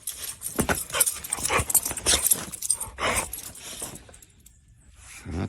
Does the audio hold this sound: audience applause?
no